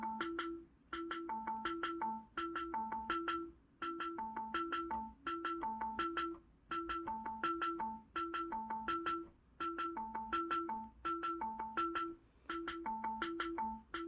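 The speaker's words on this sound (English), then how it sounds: "Let's try that. And I guess I'll leave it on marimba." Synthetic marimba tones from Chrome Music Lab tap out a looping djembe rhythm at a slow tempo, short mallet-like notes in repeating clusters with brief gaps, soft and steady with no voices.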